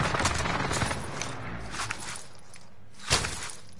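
Gunfire in a multiplayer shooter video game match, with rapid bursts of distant shots running throughout and one sharper, louder report near the end.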